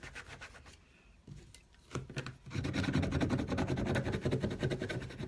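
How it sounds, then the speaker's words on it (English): Transfer tape pressed and rubbed over a vinyl decal on a cup, giving a steady close scratchy rubbing that starts softly and turns louder and continuous, with no talk. "It's just me rubbing that on, make sure it picks it up."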